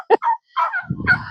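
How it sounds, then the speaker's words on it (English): A farm turkey gobbling up close, a quick burst of rattling calls in about a second, loud and alone. "we don't have a choice but to say hi to the turkey"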